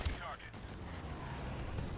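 Gunfire from a gun with heavy recoil in the futuristic shooter Call of Duty: Advanced Warfare, heard as a dense, rumbling stretch of shots and battle noise that stays steady for about two seconds, with a voice briefly mixed in.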